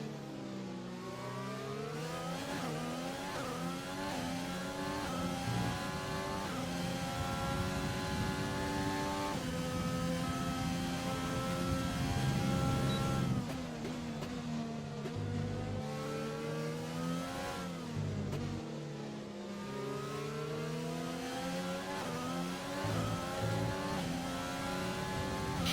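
Race car engines in a sim racing game, set in a race in Britain, rev and shift continuously at close range, with rising engine pitch sweeps, gear changes, and brief dips as cars brake and accelerate.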